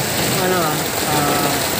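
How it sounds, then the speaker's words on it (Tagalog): Heavy typhoon rain pours steadily and loudly as a dense, continuous wash, with a faint engine hum beneath and a voice speaking now and then. "Ang lakas ang ulan, grabe."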